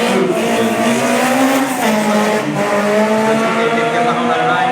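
A 1990s Porsche rally car, prepared in Germany, racing at the Circuit des Remparts street event: a loud, sustained engine roar with shifting revs, heard continuously and close.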